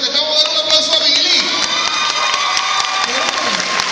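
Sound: audience applause and cheering at a concert event

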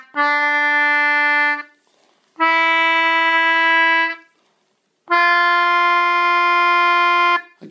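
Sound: scale played on an English concertina

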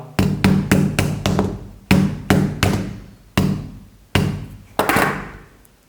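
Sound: hammer striking phone screen

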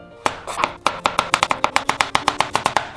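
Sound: chopping zucchini with a knife

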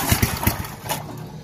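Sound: small engine starting with choke on

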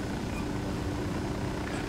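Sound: helicopter in the video game Ghost Recon Wildlands

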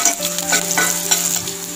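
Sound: green chilies frying in oil

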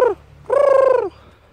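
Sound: crows calling

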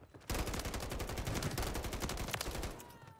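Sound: gunshots in Call of Duty Warzone video game

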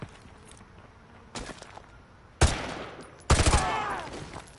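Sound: gunshot in the video game Call of Duty Modern Warfare 2

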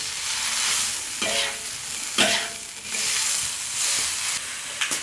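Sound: stinky bamboo shoots frying in a wok with ginger and tomato

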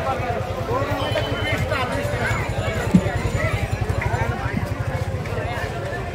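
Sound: cattle hooves as cows are unloaded at market

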